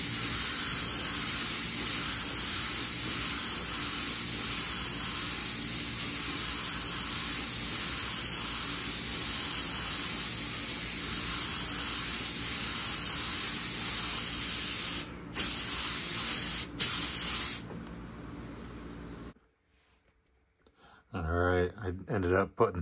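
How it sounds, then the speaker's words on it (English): Steady, continuous airbrush spray hissing as opaque black paint goes onto a stenciled tumbler for most of the clip, broken by a few short bursts near the end, followed by near silence and faint sounds. "we'll get to spraying our next color"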